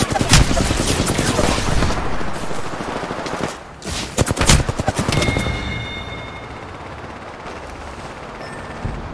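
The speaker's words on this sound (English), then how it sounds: "Getting shot at." Close, loud automatic weapon fire in the Apex Legends battle royale game, rapid bursts with a short pause midway, then fading into quieter background sounds and a faint ringing electronic tone.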